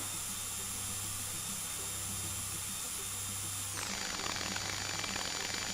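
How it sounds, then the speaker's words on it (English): A drill in the video game Stories Untold runs with a steady, dense mechanical whine that shifts abruptly to a higher, harsher tone partway through, continuous and with no talking. "Proceed to drill the surface."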